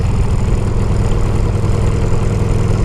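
A 2007 custom bobber motorcycle engine running loud and close, a heavy, steady low rumble with a rapid pulsing throb and no talking.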